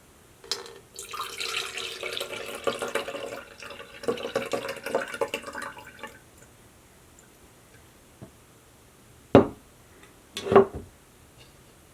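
Water scooped and poured carefully over paper pulp while making recycled paper, a close splashing trickle for several seconds, then quiet with a few sharp drips and knocks.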